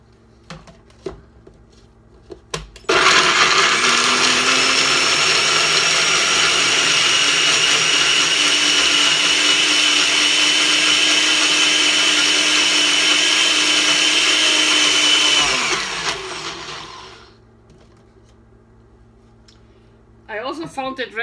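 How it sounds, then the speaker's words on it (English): A NutriBullet blender chops almonds in lukewarm almond milk, roaring loud and steady for about twelve seconds before winding down, with a voice heard briefly before and after. "We chop them through in the nutribullet"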